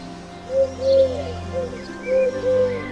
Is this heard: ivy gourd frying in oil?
no